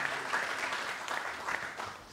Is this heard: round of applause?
yes